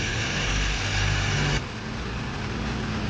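A BMW X3 G08 engine runs in a workshop, a steady broadband hum that drops abruptly partway through and settles into a quieter idle.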